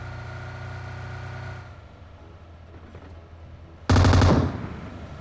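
PUBG Mobile gunfire: a steady droning hum breaks off, then one sharp, loud burst of shots crashes in near the end and decays into a faint rumble.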